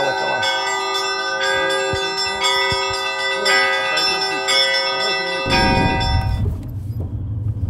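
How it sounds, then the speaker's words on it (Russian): Church bells in Chishminsky district, Bashkortostan, pealing in a rich sustained ringing with several strikes, loud and close, then fading as a vehicle rumble rises near the end. "Вон, видите, колокола."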